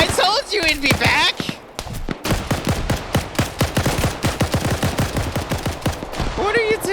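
Rapid gunfire in a multiplayer shooter game, dense evenly spaced bursts of close sharp shots over several seconds, with a player's excited voice talking over the start and end.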